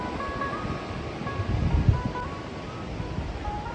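Sea waves roll onto a small beach at Puri, a continuous soft wash of surf heard from a hotel rooftop nearby, with a slightly fuller surge midway and some wind noise.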